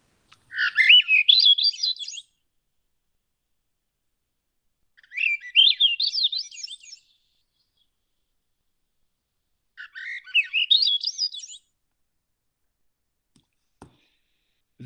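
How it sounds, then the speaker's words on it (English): Three separate bursts of Swainson's thrush song on Bainbridge Island, each an upward-spiraling flute-like phrase about two seconds long, with silence between them. "The Swainson's thrush is much less often seen than the robin."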